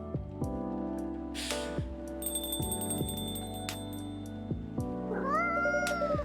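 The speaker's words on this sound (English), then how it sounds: "That's a cat!" A cat meows over background music in an indie video game trailer, with a few short meows standing out near the end of the music.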